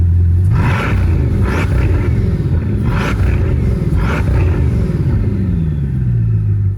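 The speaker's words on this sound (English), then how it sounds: "So the exhaust sounds amazing and looks cool" A Bugatti Divo hypercar with a quad-pipe center exhaust revving: a loud, deep, close engine rumble with several surging blips of throttle and a long falling note as the revs drop toward the end.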